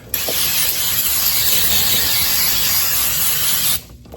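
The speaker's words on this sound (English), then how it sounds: "Get some brake clean." Brake cleaner sprayed from an aerosol can under a 2013-2018 Ford Focus ST during an oil change, one long continuous loud hiss that cuts off abruptly near the end.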